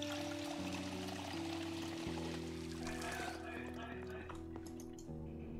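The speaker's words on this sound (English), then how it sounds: "Fill up the water bottle." A water bottle filled from a tap in Project Zomboid, a steady trickling pour with faint drips for several seconds, playing over a looping game music tone.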